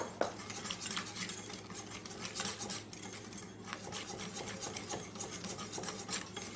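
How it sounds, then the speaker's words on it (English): A whisk scrapes and rubs steadily through flour being worked into crepe batter in a bowl, a soft continuous rasping close by, alone with no talk. "Whisk it in."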